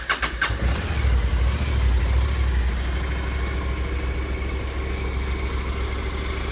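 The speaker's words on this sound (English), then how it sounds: "We'll fire up real quick." A 2014 Honda CTX 700N motorcycle engine cranks and catches with a brief clatter, then settles into a steady, loud low rumble of idling nearby.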